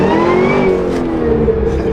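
A Cadillac Escalade-V's supercharged engine revs close by, rising in pitch, holding with a whining blower note, then easing back into a deep, throaty idle, with no voices.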